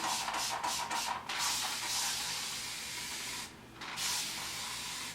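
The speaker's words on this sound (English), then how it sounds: "It's like I have a continuous spray bottle" A spray bottle misting water in a steady, continuous hiss, broken by a few short pauses and quick bursts, close by and without speech.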